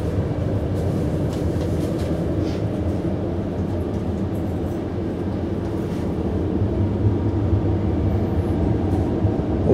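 Steady, continuous low rumble and rail noise inside a modern British passenger train carriage while it runs along the track, with no talking.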